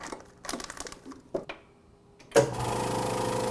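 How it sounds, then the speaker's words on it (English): A chamber vacuum sealer, bags for sous vide brisket inside, clicks and clunks a few times, then its pump kicks in with a steady, loud mechanical hum and rattle that runs to the end. "Now it's vacuuming, it's creating a vacuum inside the chamber there."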